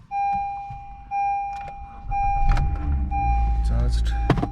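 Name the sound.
Honda Civic engine being started after jump start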